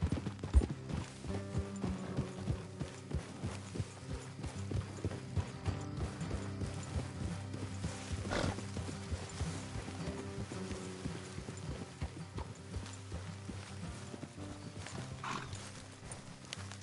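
Steady clip-clop of horse hooves in the video game Red Dead Redemption II over a continuous rumbling backdrop, the rhythmic hoofbeats going on throughout at a walking pace.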